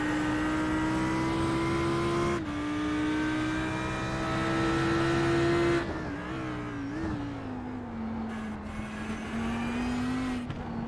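Onboard engine of a GT race car lapping Silverstone in a racing game: a steady, loud, buzzing drone holds high, drops on lifts and downshifts, then climbs again as the car accelerates.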